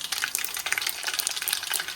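Crackling, spattering sizzle of mustard seeds popping in hot oil for a tempering, steady and close, with bright irregular pops throughout and no voices.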